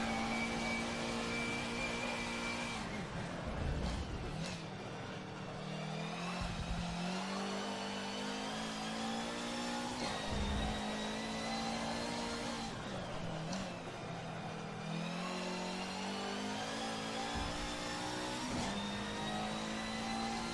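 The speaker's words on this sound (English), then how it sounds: "I've just hit the rev limiter again" A racing car engine in a driving game screams at high revs and repeatedly bounces off the rev limiter, with steady loud engine drone broken by brief dips at gear changes.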